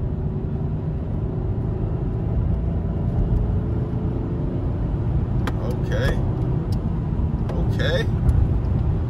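A used car with 130,000 miles runs at road speed on a test drive, a steady low engine and road rumble filling the cabin throughout, with brief higher clicks and a short voice near the end.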